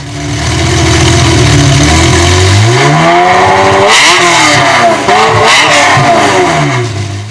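1959 Triumph TR3A classic sports car engine revved at a European auto show, loud and close, with rising and falling pitch sweeps as the throttle is blipped repeatedly before settling back.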